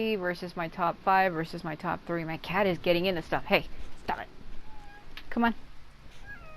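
A house cat meows repeatedly in a quick series of loud, close, pitch-bending cries, then gives a few fainter mews, with a person briefly speaking to it.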